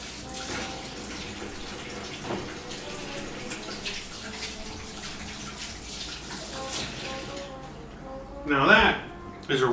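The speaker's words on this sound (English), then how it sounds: "I gotta wash my hands" Water runs steadily from a kitchen tap during handwashing after cooking New Orleans-style BBQ shrimp, a continuous splashing stream with a louder gush near the end.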